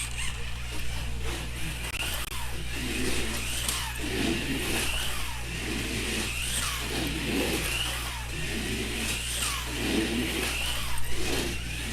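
Midget race car engine revving in repeated surges as the driver cleans its tires on track, a loud mid-pitched roar rising and falling over a constant low rumble, with no talking.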